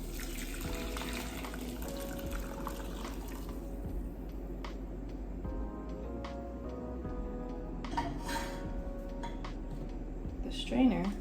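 Raspberry leaf tea strained and poured through a strainer, a steady liquid trickle running for most of the stretch with faint clinks of utensils and a brief louder splash near the end.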